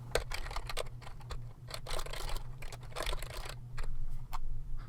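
Rapid clattering keystrokes on a computer keyboard, close and fairly loud, coming in irregular bursts with short pauses between them while someone types code, with a steady low hum underneath and no talking.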